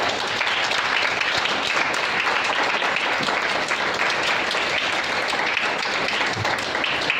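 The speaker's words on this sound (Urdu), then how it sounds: "اب خدا کے کلام کے لیے زوردار تالی." A church congregation claps hard and steadily during a sermon, a thick, even wall of applause from many hands that holds for several seconds with no talk over it.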